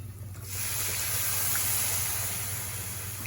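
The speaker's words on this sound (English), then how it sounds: "pour water" Water is poured into a pan of apple suji sheera cooked with jaggery, a steady rushing, sizzling pour that starts abruptly and continues loudly and evenly until the end, over a low hum.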